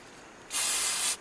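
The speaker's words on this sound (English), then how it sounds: "Really good with spray cleaner." Brake cleaner sprays onto front brake parts from a 2004 Toyota Camry 2.4L during a brake job. One loud, close hiss lasts a bit over half a second, with quiet before it.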